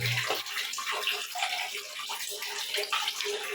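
Water flushing through household plumbing during a repair job: a loud, continuous rush and gurgle of running water, close and steady throughout.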